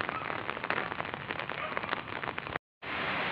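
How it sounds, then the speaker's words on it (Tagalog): Heavy rain pours steadily on a vegetable farm in a dense, continuous hiss, briefly cutting out before resuming just as loud. "malakas pa rin po ang ulan po dito"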